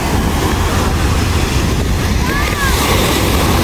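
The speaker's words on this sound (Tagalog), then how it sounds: "Lakas ng alon." Steady roar of ocean waves and surf at Laguna Beach with wind buffeting the microphone, continuous and fairly loud throughout.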